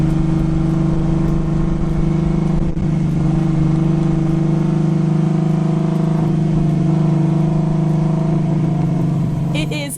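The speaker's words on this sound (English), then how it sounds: "It is a 2014 V6 Mustang." A 2014 Ford Mustang with a V6 engine drones loud and steady for about ten seconds, a constant low-mid hum with mild fluctuations in level, heard alone.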